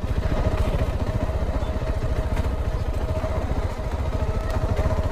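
Motorcycles idle and rumble on a beach during a group Sunday breakfast ride at Kalamb Beach, making a continuous close engine drone with a steady pulsing throb and no talk.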